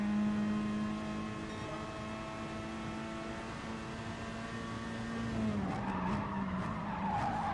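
Sustained tyre squeal from a car braking hard in GT Sport, a steady whining screech under engine drone that shifts pitch and breaks into choppier skidding near the end.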